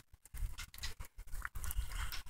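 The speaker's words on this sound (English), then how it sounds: "You guys can probably hear the rain." Rain falls outdoors during a walk in Indiana, an uneven pattering with irregular taps and rustles that rise and fall, fairly faint and close to the microphone.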